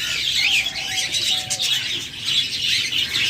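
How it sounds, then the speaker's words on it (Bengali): Caged budgerigars at a bird seller's shop give a busy, overlapping chatter of close, high chirps and warbles, with a soft coo-like murmur underneath and no talking. "আপনাদেরকে বেশ কিছু বাজরিগার পাখি দেখাবো।"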